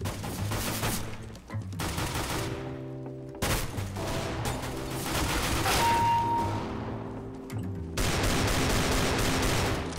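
Desert Eagle pistol fire in CS:GO, with sharp, loud gunshots in close bursts and clusters separated by brief gaps over a ringing, layered game soundscape, no talking.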